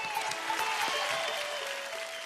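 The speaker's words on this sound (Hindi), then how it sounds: "एक बार जोरदार तालियां यार" Audience applause on a televised kids' dance show, a continuous crowd clapping that holds steady throughout, with a faint tonal hum running beneath.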